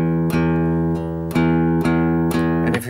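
A guitar's open strings are plucked repeatedly in a steady down-stroke rhythm, each attack ringing with rich sustained harmonics, loud and close with no voices.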